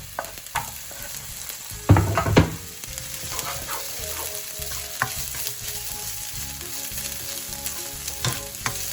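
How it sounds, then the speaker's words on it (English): Capsicum sizzles in a hot pan with prawns and onions for a restaurant-style chilli prawn dish, a steady close frying hiss punctuated by stirring clatters and a louder burst of tossing early on. "We'll be adding the capsicum now."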